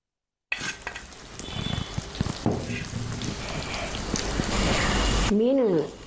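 Fish tipped into a sizzling pan of onion, cashew and green chili, setting off a loud, dense, steady frying hiss with clatters as it lands, and a voice briefly heard at the end.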